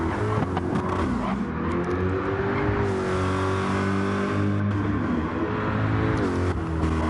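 Race car engines roaring and accelerating in a PS4 racing game, a loud, continuous layered drone of several motors with rising and shifting pitch, no talk over it.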